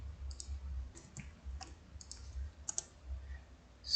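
Quiet, sparse clicks of keys being typed on a computer keyboard while entering Python code, irregular light taps over a low hum.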